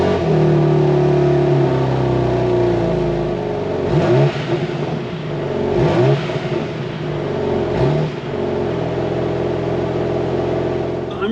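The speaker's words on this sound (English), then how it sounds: "let's fire the car up." A BMW G82 M4 Competition engine idles with a steady low hum, then gets blipped in several sharp revs that rise and fall before settling back to idle, heard close and loud.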